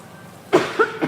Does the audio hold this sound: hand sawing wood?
no